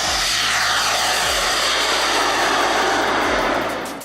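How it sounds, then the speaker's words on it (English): A 1:15 scale radio-controlled Airbus A380 airliner model, over 16 feet long, flies past with a steady, loud engine roar, broadband and sustained, with a low rumble and a slight pitch shift as it passes. "The model is a 1:15 replica of the Airbus A380, the largest production airliner in the world."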